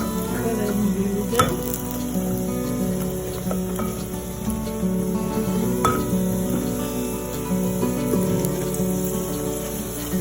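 Bolos fritos, fried dough cakes, frying in a pan with a loud, steady sizzling crackle throughout, close up, with occasional sharper pops and faint clatter.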